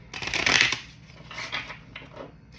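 Tarot cards being shuffled at close range, a quick riffling burst followed by a few softer shuffles, with no talk over them.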